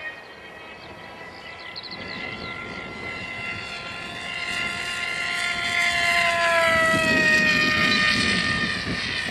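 AXN Floater RC plane flying past on a windy flying field, a buzzing propeller whine that shifts in pitch and grows louder as it approaches near the end.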